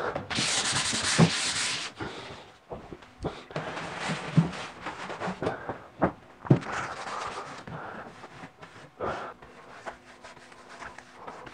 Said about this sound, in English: what I have here is some 180 grit sandpaper. And I suggest we just give it a little light sanding down.